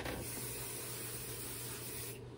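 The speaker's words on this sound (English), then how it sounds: "So there it is, a little spray adhesive." A can of spray adhesive hisses in one steady, close burst of about two seconds, sprayed onto an area beside an embroidery machine, then cuts off abruptly.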